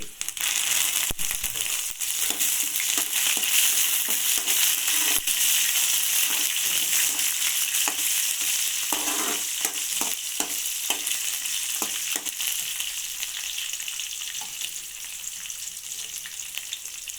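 Curry leaves hit hot oil already holding fried garlic and dried chillies, giving a loud, continuous sizzle close up, with crackling pops and occasional stirring scrapes throughout.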